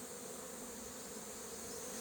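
Honeybees buzz around a beehive in a steady, continuous drone, a close, even hum that holds without a break.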